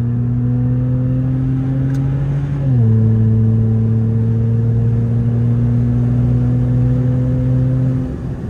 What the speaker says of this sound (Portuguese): você sente que a turbina apagou já